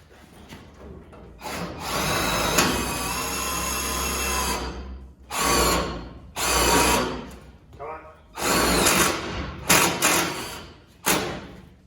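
A power drill drives blunt, reused self-tapping screws into a GMC hood on a rat rod, with several loud whirring bursts of varying length separated by short pauses, close by.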